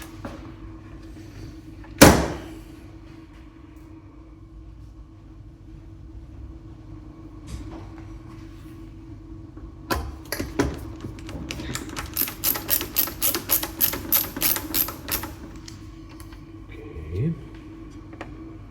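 A salvaged PC case rattles and clanks as a power supply is fitted back in, then a screwdriver turns a screw in a rapid ticking ratchet run, with someone talking quietly at close range.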